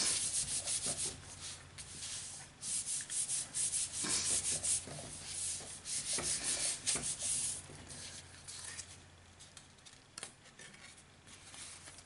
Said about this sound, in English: So let's grab our trusty cotton bud. And I'm just going to rub that down.